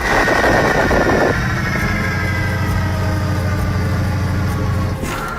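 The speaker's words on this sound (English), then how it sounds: "A diesel locomotive blows out its exhaust deck." A diesel locomotive engine rumbles loudly with a deep, steady throb after a brief burst of roaring exhaust, running continuously without any voices.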